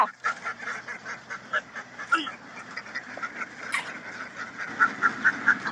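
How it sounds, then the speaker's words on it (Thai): A flock of young female ducks quacks and honks repeatedly nearby on a farm as they are caught, with scuffling and flapping commotion mixed in; no talking. "จับเป็ดสาวอยู่นะคะจับเป็ดสาวสวยๆนะคะ"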